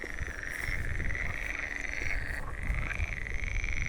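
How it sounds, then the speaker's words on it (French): A dense chorus of frogs croaks together in a fen, a continuous layered throb of overlapping calls close by, with no voices. "on entend des grenouilles. Pour vous dire, mais vraiment énormément de grenouilles."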